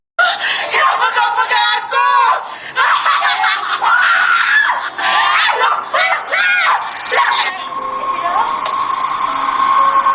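Dozens of schoolgirls scream and shriek together in mass hysteria at a Malaysian school, a loud, dense, continuous wall of overlapping voices that thins toward the end.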